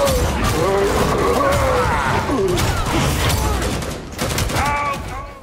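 Gunfire in Warhammer 40,000 Darktide erupts in a sustained barrage, dense overlapping shots and crashes with whining mechanical tones, loud and chaotic, voices mixed faintly underneath.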